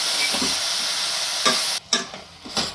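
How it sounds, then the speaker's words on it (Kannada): Potato, tomato and ridge gourd fry in a pan for village-style ridge gourd sambar, a loud close sizzle broken by a brief pause and a few stirring scrapes. "ಇವಾಗ ಆಲೂಗೆಡ್ಡೆ, ಟೊಮೊಟೊ ಮತ್ತು ಹೀರೆಕಾಯಿ ಎಲ್ಲ ಚೆನ್ನಾಗಿ ಫ್ರೈ ಆಗಿದೆ"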